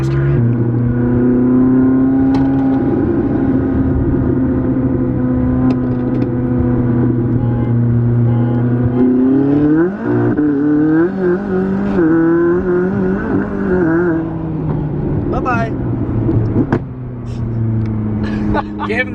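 F90 BMW M5 and Toyota Supra racing for pink slips, loud engines accelerating hard with rising drone and gear-change shifts, ending with a sharper pass and faint tire noise.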